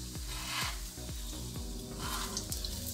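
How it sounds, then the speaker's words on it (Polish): Steady sizzling of potato cutlets frying in a hot pan, with several soft periodic clinks or scrapes as they are turned. "i smażymy z każdej strony po parę minut."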